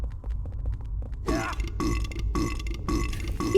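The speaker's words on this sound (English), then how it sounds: "Oh, they burp on every step down." Monsters in Silent Hill 4 give loud, deep, guttural burps, four rhythmic belches in a row after a quieter stretch of low rumbling ambience.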